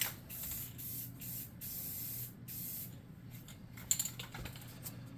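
Several short hissing blasts from an aerosol can spraying clear coat on miniatures, close by, with brief pauses between bursts and a faint click near the end.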